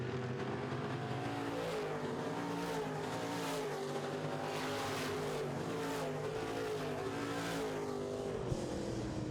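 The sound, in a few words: Midwest Modified race cars racing on speedway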